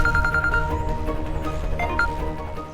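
A telephone rings repeatedly in a home during a Hindi TV serial scene. The ring tone is loud and close, with no talk over it.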